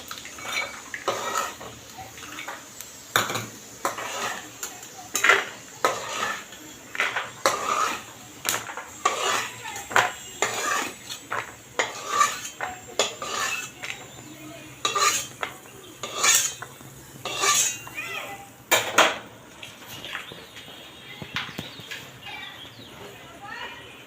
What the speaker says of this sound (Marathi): हे बघा आता हा कलर आलेला आहे शेंगदाण्याला थोडा गॅस कमी जास्त करून परतून घ्यायचे